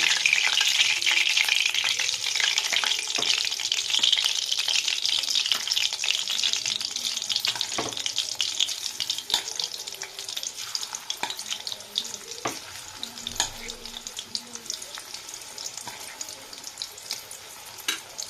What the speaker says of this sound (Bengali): তো আমি এইভাবে চিকেনগুলো সব ভেজে ভেজে একে একে তুলে নেব।